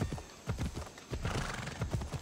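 Hooves clip-clop in a steady gallop while a horse whinnies in Assassin's Creed Odyssey, the game's hoofbeats and neighs loud and continuous with no talk.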